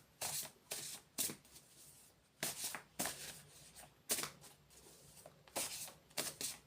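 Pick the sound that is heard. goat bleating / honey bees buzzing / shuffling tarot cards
shuffling tarot cards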